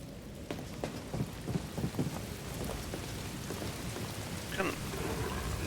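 Steady rainfall in the video game Star Wars Jedi: Fallen Order, a constant hiss of drops with a low rumbling bed underneath and scattered distinct splashes and knocks.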